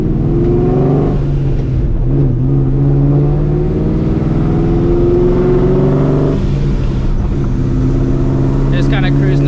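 A supercharged 2004 Ford Mustang GT cruises at moderate speed, its engine humming steadily with a low drone and mild swells in pitch, heard from inside the car with someone talking over it.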